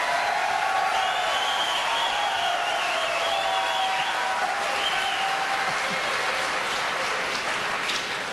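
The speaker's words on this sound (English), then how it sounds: "I never thought heroin would get applause here in South Carolina" A presidential debate audience in South Carolina breaks into sustained applause, a dense wash of clapping with a few cheers that holds steady for several seconds before easing slightly.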